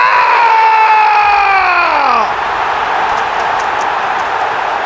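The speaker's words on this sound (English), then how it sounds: "Liverpool level it to the euphoric reaction of the Anfield crowd" The Anfield crowd roars in a loud, sustained wall of cheering as Liverpool equalise, with the noise staying full and close throughout.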